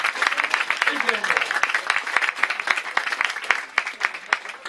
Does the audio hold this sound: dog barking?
no